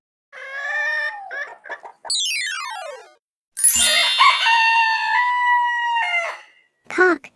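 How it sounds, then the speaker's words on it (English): A rooster crows loudly and close by with a long, drawn-out call, set among other short farm-animal and bird calls with brief pauses between them. "Cock or rooster,"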